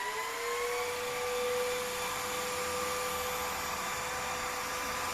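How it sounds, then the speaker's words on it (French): A wet-dry vacuum cleaner runs under test, its steady, fairly loud motor whine and suction whir holding constant throughout with no talk. "Là, c'est juste pour tester comment il aspire, comment il lave."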